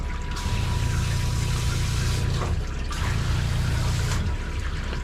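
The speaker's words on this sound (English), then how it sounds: "Just trying to rinse without getting it in her nose" Water rinsing a poodle during grooming: a continuous rushing spray that runs steadily and briefly falters midway, with a low buzzing hum underneath, close and fairly loud.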